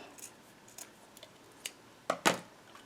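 Scissors make a few light snips while trimming a laminated tag pocket bow. The cuts are quiet and sparse, ending in two sharper, closer snips.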